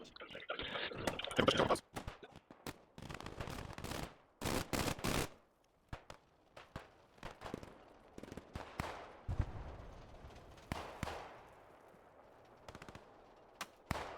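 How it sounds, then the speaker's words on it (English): Machine gun fire in the World War II video game Squad 44 rattles in sharp bursts of rapid shots, some loud and close and others more distant, separated by quieter gaps. "That's another machine gun, and it's now firing"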